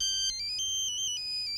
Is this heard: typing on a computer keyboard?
no